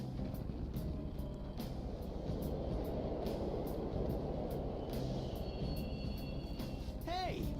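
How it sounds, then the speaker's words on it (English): Subway trains rumble through an underground station in Persona 5, a continuous mechanical roar with faint squeals and a rising screech near the end, while voices talk over it. "Trains are totally running."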